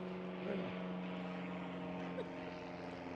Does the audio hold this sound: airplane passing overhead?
yes